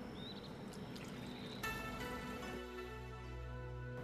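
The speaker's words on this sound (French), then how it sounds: "On va retirer l'eau de rinçage." Rinse water poured off washed rice for shrimp and chicken fried rice: a steady, close splashing pour that carries on for about four seconds with no talking.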